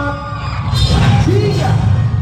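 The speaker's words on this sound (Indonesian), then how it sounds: "Boleh kita berikan tepuk tangan yang luar biasa." A festival audience at the IKM Festival & Gebyar Kreasi Batik 2025 bursts into loud yells, whoops and cheering that swell and hold close by, with a shouting voice over the noise.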